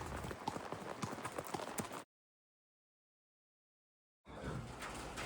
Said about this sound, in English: we headed out for just a ride on one of the roads that are open to horses right outside the camp